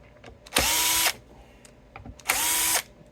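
A Bosch power drill works on a vintage 1970 Gibson SG guitar body, whirring loudly and close in two separate bursts of about half a second each, with a quiet pause between and no talking.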